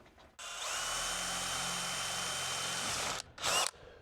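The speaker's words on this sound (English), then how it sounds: "The terrifying procedure now of drilling new holes in the right spot while the panel's already up." A power drill whirs steadily for about three seconds as it bores holes into metal on a shipping-container home roof during solar panel installation, stops, then gives one brief final burst.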